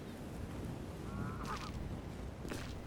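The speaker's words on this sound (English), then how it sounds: "Watch the geese fly over." A flock of geese flying overhead in the remake of the adventure game Amerzone gives a short honking call midway, moderately loud against a constant wash of background ambience.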